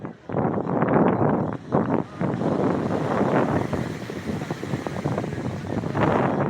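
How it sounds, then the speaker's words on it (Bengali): Rough sea waves surge at Digha beach during high tide, washing up against the guard wall in a loud, continuous roar with gusty wind buffeting the microphone. "এই ঢেউটাই গার্ডওয়াল ছুঁয়ে বেরিয়ে গেল"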